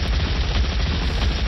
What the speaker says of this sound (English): Shit machine gun. Shitty machine gun.